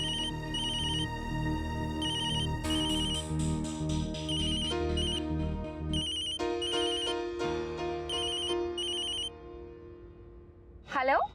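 A mobile phone ringtone for an incoming call plays a repeating electronic melody over about eleven seconds under other sounds, ending in a brief sweeping tone.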